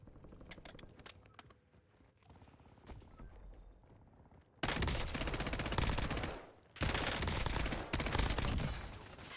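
Gunfire in the video game Warzone, scattered sharp shots at first, then two long dense bursts of rapid automatic fire, loud and close, with no speech.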